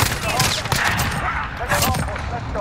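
Rapid gunfire in Call of Duty Modern Warfare, a dense burst of close, loud automatic shots with sharp cracks and echoing tails throughout.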